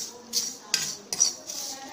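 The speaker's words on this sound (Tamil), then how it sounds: "இந்த கறிவேப்பிலை பார்த்தீங்கன்னா இப்படி சலசலன்னு சத்தம் வரணும்" Curry leaves crackling as they dry-roast in a pan, a faint run of crisp sizzling bursts and light scraping from stirring.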